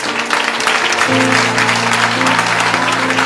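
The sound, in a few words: audience applauding and cheering for the husband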